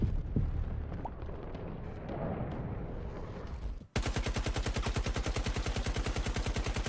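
Gunfire and explosions in the video game Battlefield 2042: a rumbling blast-filled stretch, then a sudden switch to loud, rapid, evenly spaced automatic weapon fire that runs steadily to the end.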